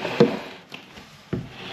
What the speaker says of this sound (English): Someone's knocking back.